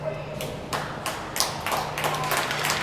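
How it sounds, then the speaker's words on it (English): Crowd applause at a Wade Warriors vs White Caps hockey game, a few scattered claps and taps rising and falling over a low arena hum, with a commentator talking throughout. "nice round of applause. I'm going to have to clap for this one."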